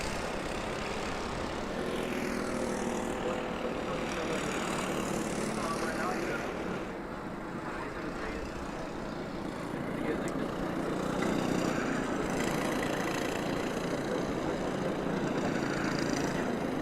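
Kit karts racing down the straightaway at Adams Motorsports Park, a continuous buzzing engine drone that swells and fades slightly as they pass, with a commentator talking over it.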